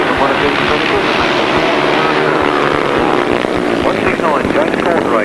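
Grasstrack racing motorcycles at a 1993 meeting in Frittenden rev hard and roar off the start line together in a loud, sustained engine blare, with a commentator talking over it.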